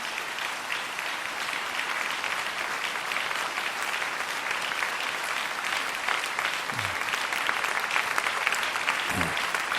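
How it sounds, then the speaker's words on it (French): A church congregation gives sustained, dense applause for the people about to be baptized, a thick wash of many hands that carries on steadily for about ten seconds. "Applaudissons encore plus ceux qui vont se faire baptiser aujourd'hui."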